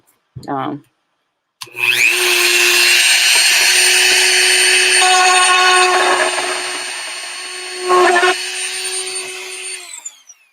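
A power drill bores through cheap Halloween store plastic, a loud steady whirring run of several seconds with a rising pitch at the start, following a brief burst of talk.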